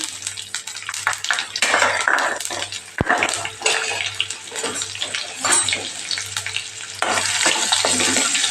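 Onions sizzle and crackle in hot oil with sesame seeds and curry leaves as a tempering for lemon dhokla, a steady loud frying hiss with a brief sharp clank partway through.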